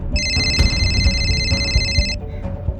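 A telephone rings with a bright electronic trill lasting about two seconds before cutting off, heard over a low background rumble in an indoor crime-drama scene.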